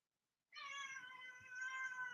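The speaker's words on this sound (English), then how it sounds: "Kitty has so much to say about this." A cat lets out one long, drawn-out meow close to the microphone, starting after a brief silence and holding steady with a wavering, whiny tone.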